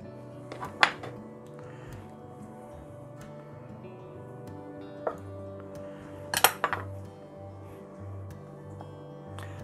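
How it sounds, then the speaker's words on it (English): Boiled eggs being halved lengthwise with a normal butter knife, with sparse clinks of the knife against a plate and a few sharper clatters as yolks drop into a separate bowl, set over a low steady hum. "we have to take the eggs and cut them in half long ways. Just a normal butter knife will work."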